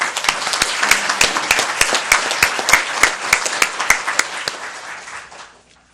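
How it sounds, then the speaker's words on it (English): A school board meeting audience gives warm applause to the band director, dense clapping from many hands, steady and close, fading out over the last second. "I'll give him again another warm applause."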